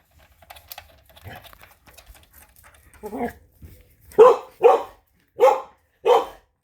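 A pet dog barks four times in a loud, evenly spaced series near the microphone, after some faint clicking and a lower bark or grumble at the start.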